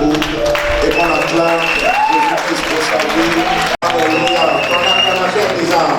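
A church congregation at a revival meeting claps and acclaims loudly, a continuous burst of applause mixed with shouting, cheering voices that carries on throughout with only a brief break.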